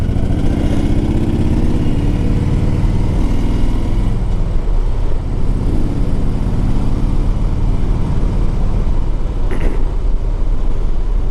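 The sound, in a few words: 2004 Harley Davidson Road King Custom motorcycle engine running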